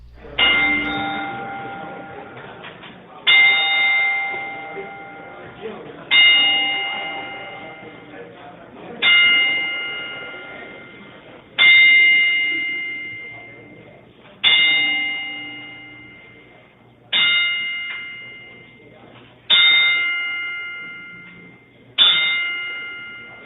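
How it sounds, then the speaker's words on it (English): A bell tolls a ten-bell salute in a slow, steady series of about nine audible strikes, each clang ringing out and fading before the next. "And now for our 10-bell salute"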